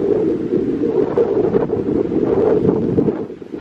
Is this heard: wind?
yes